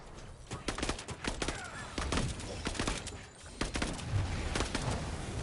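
Rapid bursts of gunfire and booming blasts from grenades thrown at hordes of riot bots and phase bots in a game, dense and continuous with repeated sharp impacts.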